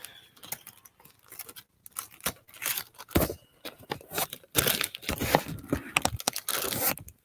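Scissors snip and crunch through paper in irregular bursts, close by, with quiet pauses between cuts and faster cutting toward the end.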